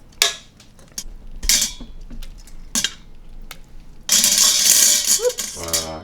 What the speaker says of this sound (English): I'm going to toss these in the sauce